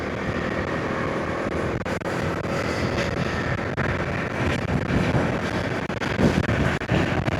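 Heavy wind buffeting a microphone on a moving Bajaj Dominar motorcycle, a constant loud roaring rush with small gusty swells and no pauses.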